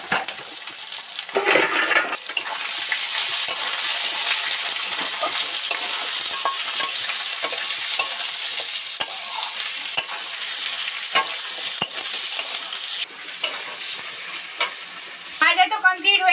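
Bitter gourd fries in a pan and is stirred, a strong continuous sizzle with repeated scraping of a spatula and a few metallic clinks near the end.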